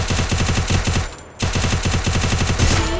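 In the Free Fire video game, a UMP submachine gun fires a rapid, loud burst of automatic shots, pauses briefly, then resumes another sustained burst, close and dominant.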